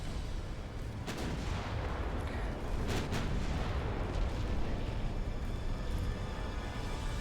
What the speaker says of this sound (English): Then we're going to shoot the secondaries through the first target into the second.